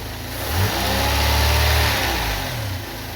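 A Mercedes 190E W201 engine idles low and steady, its deep hum rising slightly in the middle before settling back, heard close with no voices.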